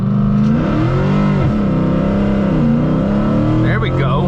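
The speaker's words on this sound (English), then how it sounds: "So if you want some burnouts, all you got to do is some light brake boosting." A Mercedes C63 AMG V8 revs hard during a brake-boosted burnout, a loud sustained engine roar that swells and dips across the clip, with tire squeal rising near the end.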